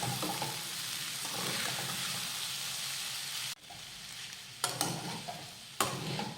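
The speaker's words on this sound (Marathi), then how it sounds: "शेंगदाण्याचा कूट आणि मीठ, आपण जे मिक्स करून ठेवलं होतं ते घालूयात। आता हे मिक्स करून घेऊयात।" Peanut powder and salt being stirred into sabudana khichdi in a pan: a continuous dry sizzle and rustle for several seconds, then a sudden drop to quieter frying punctuated by a few sharp spoon clanks against the pan, close up with no talking.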